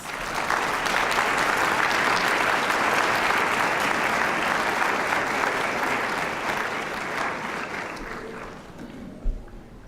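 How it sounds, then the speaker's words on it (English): Dense, sustained crowd applause at an MLK Day march and gathering, loud and steady for most of ten seconds before thinning toward the end, closing with a single thump. "Please give him a round of applause."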